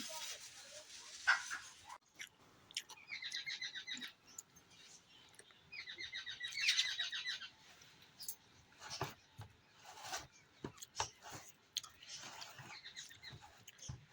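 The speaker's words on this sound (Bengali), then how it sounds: "খিদে পেয়েছে না না পাখিগুলো, মুড়ি খাচ্ছে।" Small birds chirp and tweet in short bursts while eating puffed rice, amid light pecking and rustling, fairly quiet and close, with scattered clicks and no speech.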